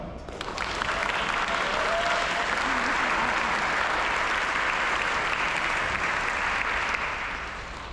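A concert audience gives sustained, even applause before a world premiere piece of original music. The clapping holds steady for the whole stretch, with a faint voice beneath it.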